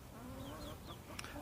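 Chickens cluck softly in an allotment fruit orchard, faint scattered calls over a low outdoor background.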